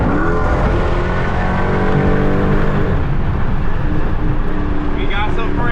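A Dodge SRT Hellcat accelerating on a highway, its engine revving loud and close with rising harmonic tones under constant road and wind roar.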